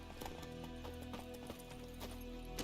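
Roach, the horse in the video game The Witcher 3: Wild Hunt, galloping with a rapid, rhythmic clip-clop of hooves over a dense game soundscape of music and ambience, fairly quiet overall.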